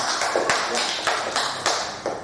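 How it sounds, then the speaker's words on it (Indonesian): Classroom group in Indonesia clapping their hands together in a steady rhythm, with sharp, evenly spaced bursts of claps roughly twice a second, close and fairly loud. "Oke, kita tepuk tangan."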